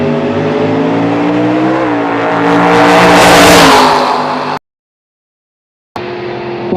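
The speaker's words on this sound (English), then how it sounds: "That was a good side-by-side run down the lanes there" Drag race cars at Tulsa Raceway Park make a side-by-side run, loud, high-revving engines that climb and rush past close by, then a sudden cut to silence and a brief return of engine noise.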